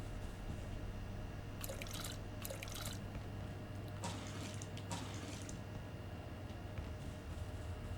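Running water from a tap in the Abiotic Factor video game, with a quiet steady flow and several brief bursts of splashing and trickling over a low hum.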